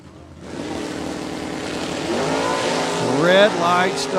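Super Stock drag race cars, an Oldsmobile Achieva and a Firebird, at a LODRS Division 3 event at US131: a loud, steady engine drone whose pitch climbs and warbles as they accelerate, with an announcer talking over it.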